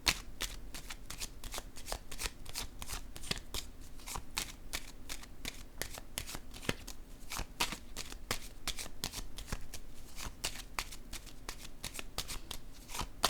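A deck of cards is shuffled over and over in a rapid, even riffle, with quick crisp flutters repeating close and fairly quiet.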